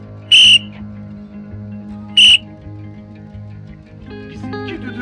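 Two short, shrill whistle blasts, about two seconds apart, sound during a street prank on a shoe-shiner, with steady background music underneath.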